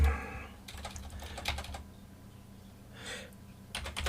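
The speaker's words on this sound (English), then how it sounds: "I'm just going to type it in this time." Typing on a computer keyboard at a desk, with no talk. Quick bursts of close, crisp keystrokes are separated by short pauses.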